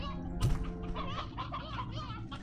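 Stone chick from the Slime Rancher 2 video game giving a few soft, close clucks over a steady hum of game ambience and music.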